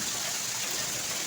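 Heavy morning rain pours steadily as a faint, even, broadband hiss with no breaks or other sounds.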